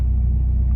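Nissan 240SX engine heard from inside while driving, a steady low rumble of the running car throughout, close and fairly loud, with a brief higher sound near the end.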